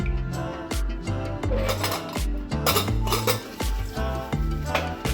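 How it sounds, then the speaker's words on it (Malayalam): Pots, pans and dishes clink and clatter in irregular bursts as they are washed at home, close and fairly loud against a steady tonal background. "പിന്നെ പാത്രങ്ങൾ അപ്പോൾ തന്നെ കഴുകിയെടുക്കലാണ് കേട്ടോ."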